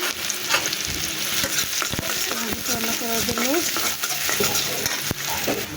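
Onions fry in a little leftover oil with a constant, loud sizzle and steady stirring scrapes, while someone speaks briefly over the cooking noise.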